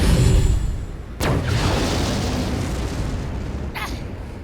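In the video game Sand Land, a sharp, heavy main cannon blast hits suddenly, followed by a long rumbling roar, then a second brief burst near the end.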